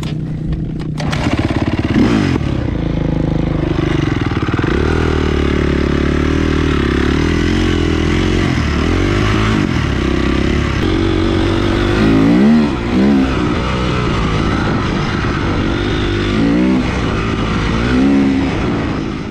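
A Mobra moped being run in on a road near a forest idles and revs continuously, its engine loud and close throughout, with rising and falling pitch sweeps and some rattling clatter.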